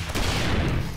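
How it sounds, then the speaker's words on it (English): A rocket launcher fires in 7 Days to Die Alpha 21, giving one loud, close blast that fills the brief moment with a dense, rumbling burst. "Oh, sneak rocket launcher."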